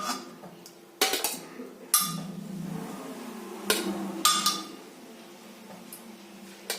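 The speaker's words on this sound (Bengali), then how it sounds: "প্রেসার কুকারটা খুলে নেব, ঠান্ডা হয়ে গেছে। আর এর ভেতর থেকে আমি আলুগুলো বার করে নেব।" Pressure cooker lid opened and boiled potatoes lifted out for ghugni, with several sharp metallic clanks and clinks of lid and utensils against the pot spaced over a few seconds, close and fairly loud, no talking.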